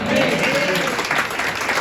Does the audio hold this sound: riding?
no